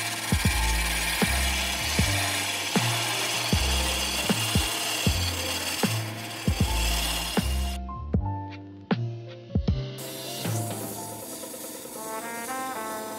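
A wooden pen blank is carved on a lathe, giving a rhythmic scraping and rubbing of the cutting tool against spinning wood, with repeated knocks, a brief pause, then lighter, higher scraping near the end.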